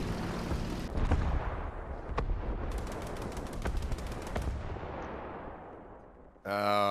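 Strafing gunfire from an aircraft attacking a German tank in a War Thunder-style tank battle game, with a dense burst of rapid, crackling shots and heavy booms that fade out over several seconds, followed by a brief electronic tone.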